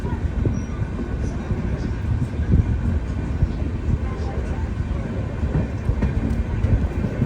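The Donyi Polo Express sleeper coach rolls along between Arunachal Pradesh and Assam, a loud continuous low rumble with rattling and clatter heard from inside the moving train, with no clear breaks throughout.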